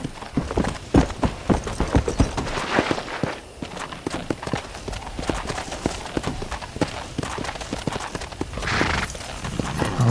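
Hooves clip-clop in a fast rhythmic gallop from a horse in the Western video game Red Dead Redemption, sharp close thuds repeating over ambient game sound.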